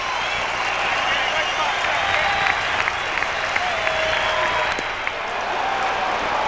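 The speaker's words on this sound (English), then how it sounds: "Here comes the crowd again" A large baseball crowd at Fenway Park in Boston roars and cheers during a Yankees–Red Sox game, a dense, sustained wash of noise with scattered claps and shouts throughout.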